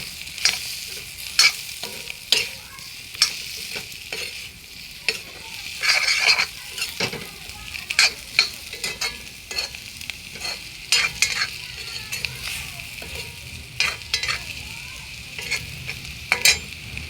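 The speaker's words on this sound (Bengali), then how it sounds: "ভেজে নিচ্ছি" Potatoes with turmeric and salt frying in a pan, a steady soft sizzle under repeated sharp scrapes and stirs of a spatula, near and moderately quiet.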